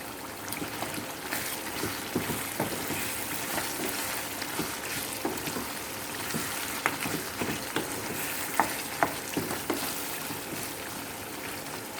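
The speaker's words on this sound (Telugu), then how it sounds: "ఒక చిన్న అనాస పువ్వు ఉంటే కూడా వేసి వేయించుకుంటున్నాను." Star anise and spices frying in hot oil in a pan for a spicy chicken curry gravy, a continuous close sizzle with occasional crackles and stirring scrapes, steady and fairly loud with no talking.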